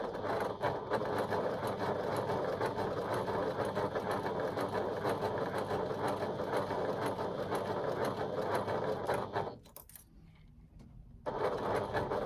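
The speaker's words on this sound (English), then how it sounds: "trying again to keep a nice even rhythm to your stitching" Sewing machine stitching at a steady even rhythm, a continuous close mechanical whirr that cuts out briefly near the end before resuming.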